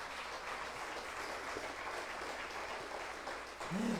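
A church congregation applauding during a service, an even wash of clapping that sounds somewhat distant and faint, with a voice starting at the very end.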